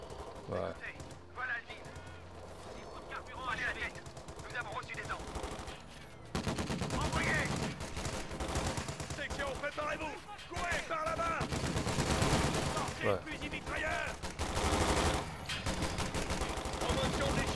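Browning M1919A6 machine gun bursts in the Company of Heroes 2 Battle of the Bulge battlefield, rapid crackling gunfire repeating under someone speaking steadily, with other battle noise around it.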